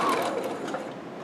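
A sewing machine stitches the side seam of a fabric locker caddy, a steady close mechanical whir running for just over a second, holding an even level throughout with no voices.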